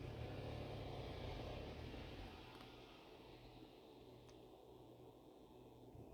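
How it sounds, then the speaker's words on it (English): Traffic passes by outside an open window, a low rumbling wash of vehicles that is louder at first and then eases into a quieter steady hum, faint overall with no one speaking. "I got the window open, traffic's going by"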